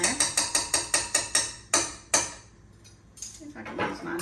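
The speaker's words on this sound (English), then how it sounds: "If I can use my knife to get all that out." A metal knife scrapes and taps against a container holding strained bacon grease in a home kitchen, a fast run of about ten sharp clicks followed by a few louder knocks and a brief scrape, close and fairly loud.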